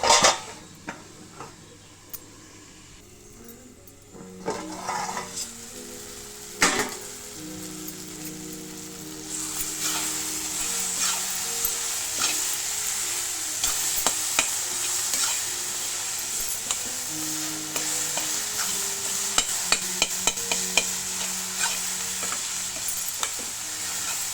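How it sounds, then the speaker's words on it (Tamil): Mushroom kootu sizzles and fries steadily in a pan while a utensil stirs and scrapes against it, with occasional clinks of metal over a constant hissing bed of frying. "கிளறி விட்டு மூடி விட்டு மூடிக்கணும்"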